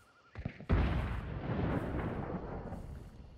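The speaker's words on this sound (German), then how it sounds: "Schuss!" A loud gunshot in the video game Hunt: Showdown, a sharp close blast that rolls into a long booming echo and tail, with no talk over it.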